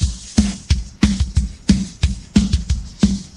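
Isolated drum track pulled from a full mix by AI stem separation, with punchy kick and snare hits in a steady, repeating groove and slightly smeared, processed-sounding cymbals on top.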